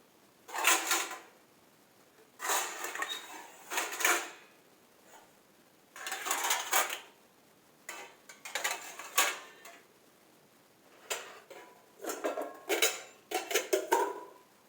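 Dishes being put away: repeated clatters and clinks of plates being stacked, coming in irregular bursts with short pauses, close and fairly loud.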